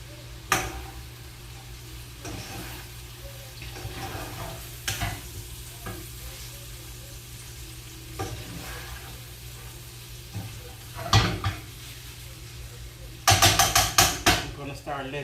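Salmon croquettes fry in a pan over medium-low heat, giving a steady soft sizzle with occasional utensil clinks and a louder burst of clattering near the end.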